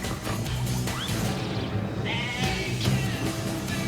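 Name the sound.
goat bleating in video game Goat Simulator trailer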